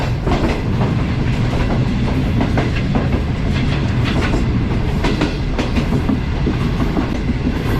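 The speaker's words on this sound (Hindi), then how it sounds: "हमारी train 27 of Shalimar express skip कर रही" The Shalimar Express, running from Karachi to Lahore, rolls through Tando Adam junction station without stopping, heard from on board as a loud, continuous rumble with rapid rhythmic clickety-clack of wheels over rail joints.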